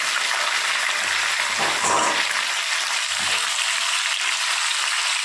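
Chicken sizzles and fries in a pan with dried red chilli for a simple Bengali biryani, a steady loud hiss broken by a few soft stirring clunks.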